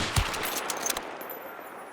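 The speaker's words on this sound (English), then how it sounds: "gunshots and explosions audio now reflects and echoes off large environmental structures like mountains" Gunfire in the video game Hunt Showdown: a sharp close shot followed by a quick run of rapid reports, then a fading echo off the surrounding terrain, with no talking.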